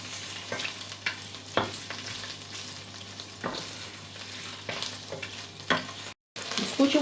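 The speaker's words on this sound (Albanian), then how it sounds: "I skuqim kokat e karkalecave" Shrimp heads frying in a pan with ginger, a continuous close sizzle with scraping stir strokes recurring every second or two, briefly cutting out near the end before resuming.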